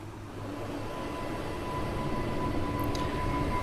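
Inside a passenger train in the Train Sim World game on a Great Western Express route: a steady, loud interior rumble with a faint, constant tonal whine that builds slightly, and no talking.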